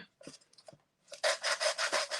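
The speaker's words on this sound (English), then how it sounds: "I might need a sanding file because this thing's kind of big" A sanding file rubs across a wooden craft frame, first in a few short, scattered scrapes, then in a quick run of about six close, rhythmic back-and-forth strokes.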